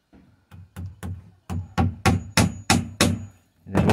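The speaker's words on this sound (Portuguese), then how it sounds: "Aqui pra esses preguinhos, esse martelo aqui é melhor." A hammer drives small nails into wood while a chicken coop is being built: about a dozen sharp, close knocks, at first spaced out and then falling into a quicker, steady rhythm, with no talking.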